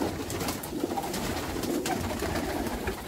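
Vouta pigeons coo softly against a steady outdoor background, faint and somewhat distant, with no one talking.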